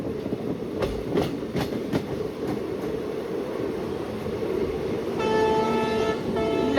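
Passenger train near Vyasa Colony on the Hosapete to Harihar route via Davanagere, rumbling on the rails with a few clacks, then a long horn blast near the end, heard from onboard.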